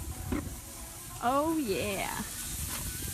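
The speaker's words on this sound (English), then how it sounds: "So I hope you guys can hear that sizzle." Taco burger meat seasoned with mango sizzles and hisses on a Pro X Series outdoor cooking system, a close, steady frying crackle while someone briefly speaks over it.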